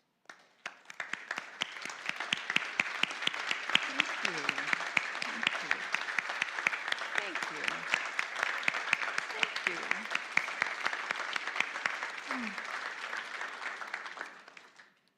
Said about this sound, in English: we share our love by just applauding